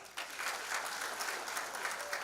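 Crowd applause fills a graduation ceremony hall at Mildmay Institute of Health Sciences, starting after a brief quieter moment and then continuing as a close, steady wash of many hands.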